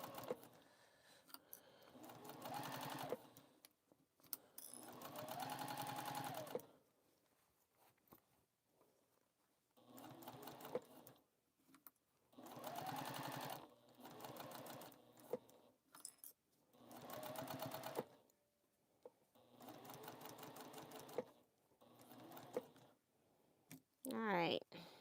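A sewing machine stitches a quarter-inch seam on a sewing caddy in short whirring runs that stop and start repeatedly, close and fairly quiet, with talk in between the runs.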